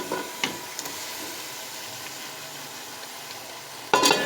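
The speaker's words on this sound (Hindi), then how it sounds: "हम सारे मसालों को चिकन के साथ अच्छे तरीके से भून लेंगे" Leftover chicken fries with spices in a pan, a soft steady sizzle with a few clinks of stirring, then a sudden louder hiss near the end.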